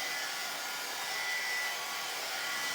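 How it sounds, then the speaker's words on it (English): Hair dryer blowing steadily at close range over a damp upholstered chair seat, a continuous even airy whoosh with no pauses. "Still a little bit wet, so I'm going to hit it again with the dryer."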